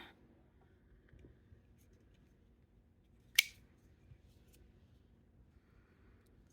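Scissors snipping a thread end close to a knot while making a beaded collar necklace; a single sharp, close snip in an otherwise quiet room, with faint handling sounds around it.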